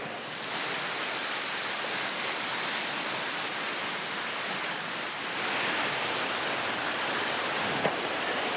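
Waterfall in the Lake District woodland, a steady broadband rush of falling water that holds at an even level throughout, with no voices.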